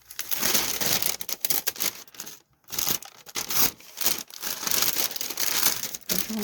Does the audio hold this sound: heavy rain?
no